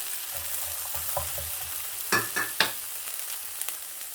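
Minced meat and onion sizzle in a pan for samosa filling, a soft steady frying hiss with a few louder scrapes and clatters of stirring midway, no voices.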